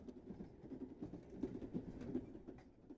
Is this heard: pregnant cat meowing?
no